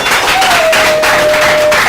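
Applause from a school quiz-show audience in a true-or-false competition round, dense steady clapping throughout with crowd noise and a faint tone gliding underneath.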